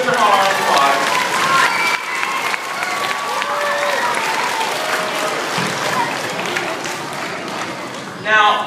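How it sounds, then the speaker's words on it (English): A crowd gives a teacher a steady, sustained round of applause, dense clapping with some cheering voices mixed in, holding level for several seconds. "Give Mr. Hall a round of applause"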